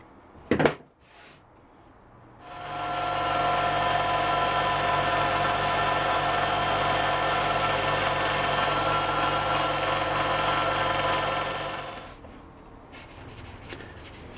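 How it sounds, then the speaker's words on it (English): An electric sander smooths the edge of a thick leather arrow spacer, starting after a brief knock and running with a steady, loud whirring grind for about ten seconds before winding down. "finished off with my sander"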